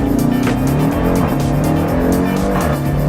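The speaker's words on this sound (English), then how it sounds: "Fully push it down and then apply full throttle and then go" A 707-horsepower 2018 Jeep Grand Cherokee takes off on launch control at full throttle, its loud, close engine roaring steadily with tire squeal layered on top for the whole stretch.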